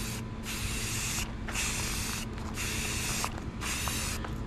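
Aerosol spray paint hisses onto a 2001 Yamaha Vino scooter panel in four steady bursts of about a second each, close and clear, with brief gaps between them.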